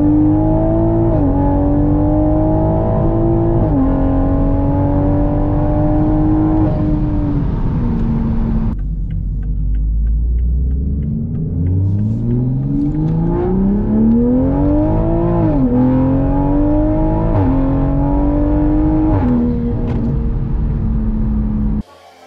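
A 2022 Toyota Supra with a tuned ECU accelerates hard through several gears, its engine note climbing and dropping with each shift, loud and close, with a brief lull before pulling again.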